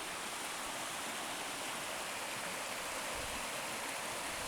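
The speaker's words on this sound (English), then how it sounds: "that's me just approaching the river now, going over the bridge and looking down onto it" A river flows beneath a bridge in a village of cottages on the south end of an isle, its steady broadband rush continuous and fairly close, with no voices.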